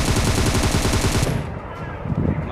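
Rapid automatic gunfire from a battle royale shooter game rattles loud and close in a fast burst for over a second, then drops away to quieter game sounds.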